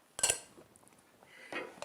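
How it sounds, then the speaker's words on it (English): Dishes and utensils clink and knock as they are moved and cleared from a kitchen counter while Korean glass noodles (japchae) are plated; a few sharp, close clatters separated by quieter handling. "Let me get some of these dishes away."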